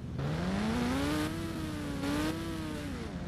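Motorcycle engine in a GTA-style car and motorcycle video game, a steady loud whine that rises in pitch as it revs up, dips briefly and climbs again, with no talk over it.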